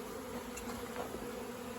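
Honey bees buzzing around an open backyard hive during a frame inspection, a faint, steady swarm drone filling a brief moment with no talk.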